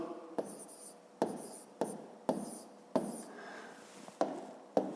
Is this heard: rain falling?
no